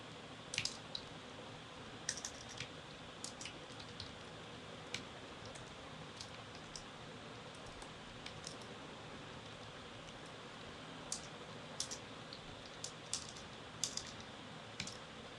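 Code typed on a computer keyboard during a Python programming session, faint scattered key clicks in quick irregular bursts over a quiet room hiss, with no talk.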